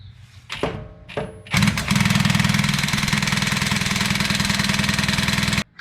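An impact wrench removes a differential bolt on a Nissan 350Z being built into a drift car: two short rattling bursts, then a loud, sustained, rapid hammering run for about four seconds that cuts off abruptly.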